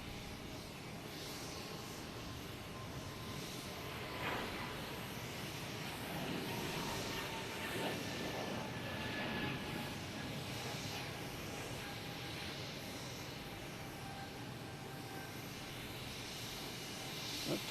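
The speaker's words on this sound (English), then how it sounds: "here's Swiss Air coming in from Zurich, an A330-300." A Swiss Air Airbus A330-300 arriving from Zurich lands at Boston Logan Airport, a distant, steady broadband jet roar with wind-like hiss holding evenly throughout.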